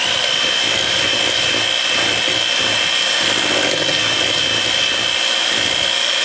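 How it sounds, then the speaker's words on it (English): An electric hand mixer creams butter and brown sugar for chocolate blossom cookies, a steady motor whine with a constant buzzing hum and soft rubbing of the beaters in the bowl. "I'm going to use the one with the electric hand mixer"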